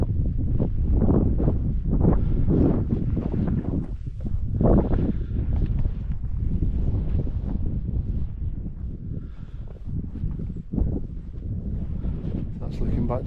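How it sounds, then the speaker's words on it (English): Gusty wind on an exposed Welsh hilltop near Barmouth, buffeting the microphone in loud rumbling bursts that rise and fall throughout. "It's getting quite breezy up here as well now."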